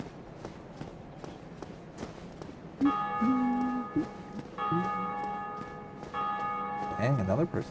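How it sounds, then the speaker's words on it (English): A bell struck in a video game, sounding two or three times with ringing tones that sustain and overlap, over steady footstep-like tapping and game background sounds. "another person hit the bell too"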